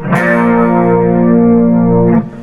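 An electric guitar strikes a D-shape chord embellishment pattern through distortion and chorus effects. A single loud strum rings out and sustains evenly for about two seconds, then is cut off abruptly.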